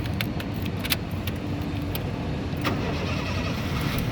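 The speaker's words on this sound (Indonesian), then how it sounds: "nah berikutnya sekarang kita coba nyalakan mobil ya" A 2007 Honda Jazz 1.5 i-DSI automatic cranks and starts, giving a steady mid-level engine noise with a few sharp clicks and knocks near the start, no voices.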